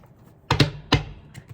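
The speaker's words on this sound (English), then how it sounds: "I can't shuffle these cards for the life of me" A deck of large cards being shuffled, heard as a few sharp riffling bursts close by in a quiet room.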